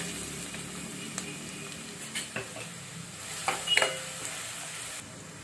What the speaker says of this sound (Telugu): ఆయిల్ హీట్ అయింది. ఆనియన్స్, పచ్చిమిర్చి వేసుకుంటున్నాం.